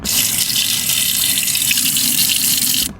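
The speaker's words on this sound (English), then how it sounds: "So this is faucet with a lot of water dripping." Steady rush of water pouring from a faucet, continuous and close, with a splashy hiss that cuts off abruptly at the end.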